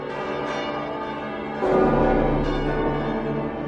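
Deep church bells from Disney's animated The Hunchback of Notre Dame ring in sustained, layered tones, swelling louder partway through and carrying on steadily with no talking.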